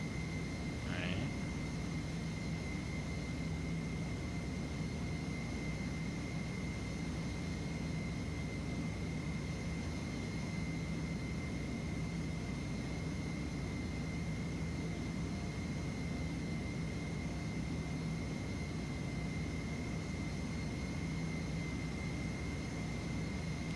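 A Boeing 727-100 jet engine in a flight simulator drones as a steady, faint, continuous whine and roar, unchanging across the whole stretch with no talk over it.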